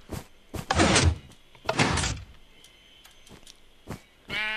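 Minecraft automatic piston doors sliding open and shut, two loud broadband bursts about a second apart, followed by several short sharp clicks and a final burst, with no talking.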